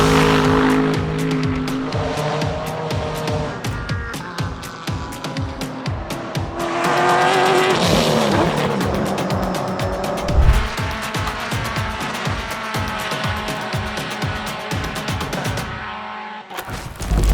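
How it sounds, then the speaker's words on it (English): At Virginia International Raceway a Porsche race car crashes, engine roaring loud and close while tires squeal through a long skid and spin, a heavy thump midway, then the car briefly cuts out. "Oh, the huge crash. Starts to go over, then comes back around a complete"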